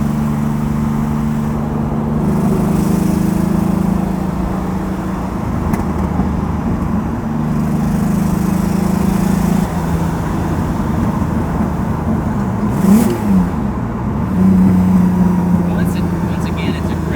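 Twin-turbo Lamborghini Diablo engine accelerating with the throttle floored, a loud sustained drone from inside the cabin that wavers and surges as speed builds, with a voice speaking over it.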